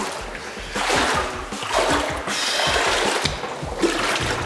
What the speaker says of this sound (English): We're going through lots of water and it's getting very cold